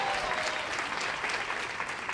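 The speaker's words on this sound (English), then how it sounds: "Let's give him a big round of applause." An audience applauds for an architect at a school district's annual state-of-the-district event, a steady dense wash of clapping that holds evenly for a couple of seconds.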